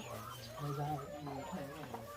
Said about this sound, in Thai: แม่ไก่ใจดีจังเลย